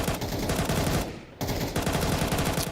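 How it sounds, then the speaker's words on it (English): MAC-10 gunfire in Counter-Strike during a StarLadder Budapest Major match: loud, rapid automatic bursts with a brief pause in the middle, then more sustained firing. "Good cover from Imma as Makaze takes space with the MAC-10"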